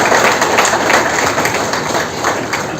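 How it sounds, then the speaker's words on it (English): Audience applause greeting the chief guest at a memorial lecture, a steady dense wash of clapping that holds evenly throughout at close, full volume. "please join me with a big round of applause in welcoming Dr."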